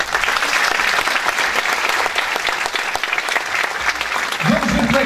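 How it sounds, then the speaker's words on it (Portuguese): Audience applause for a performer at an army light orchestra concert, loud and sustained for about five seconds, with a voice briefly audible near the end. "Um salve de palmas para ele."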